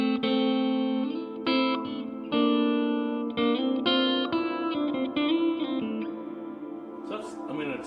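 A Donner delay and reverb combo pedal shapes sustained electric guitar chords into a wash of reverb, the tone shifting as a knob is turned and the tail thinning out toward the end; loud and close with no voices.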